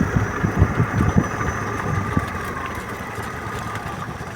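A Voge SR3 scooter engine runs at a smooth, steady idle, a low mechanical hum with a few soft pulses early on that settle into an even drone, heard close with no talking.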